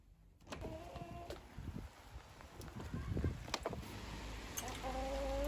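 Chickens clucking and murmuring nearby, with soft outdoor background noise and a few rustles, no talking.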